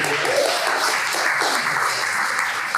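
An audience at a graduation show applauds in a dense, steady burst of clapping that fills the room and holds level from start to finish.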